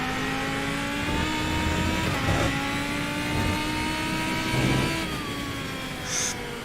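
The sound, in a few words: V10 car engine accelerating in fourth gear, from a video game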